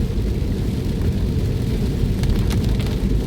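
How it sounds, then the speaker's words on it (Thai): A heavy downpour of rain pours down steadily, a loud and continuous dense hiss with no pauses and no voices. "วันนี้ มากับฝนนะครับหลายวันนะครับ ที่ไม่ตกนะครับ วันนี้ก็ ลงหนักเลยนะครับ"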